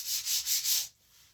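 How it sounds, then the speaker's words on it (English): Sandpaper rubbing rawhide on the edges and tips of a rawhide-backed paddle bow, fingers used as the sanding block: four quick, loud back-and-forth rasping strokes, close up, then stopping. "carefully sand the edges, using my fingers as a sanding block."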